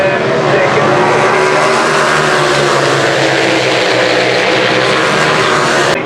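Superbikes racing at Donington Park, including the Case Motor BMW, roar past in a loud, continuous engine wail with a race commentator talking over the top throughout.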